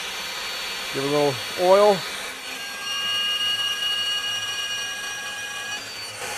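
A voice speaks briefly, then a FEIN Slugger MagForce 90 magnetic drill bores through steel with a steady, high-pitched mechanical whine that holds for several seconds.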